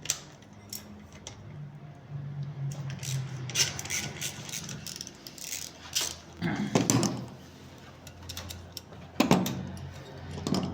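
Wrench work loosening the positive terminal nut on a Chevrolet alternator during disassembly, heard as scattered metallic clicks and ratcheting ticks with a few louder clanks, close and moderately quiet, with no talking.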